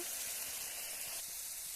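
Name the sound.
frying vegetables in a pan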